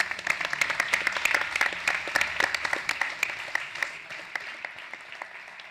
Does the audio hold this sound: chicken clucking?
no